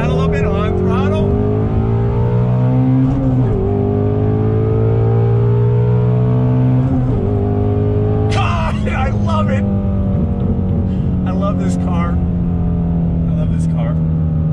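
Ford Shelby GT350R Mustang's engine revving hard on a racetrack, loud and close, its pitch rising and falling through gear changes with sharper bursts of revs toward the end, while someone talks over it throughout.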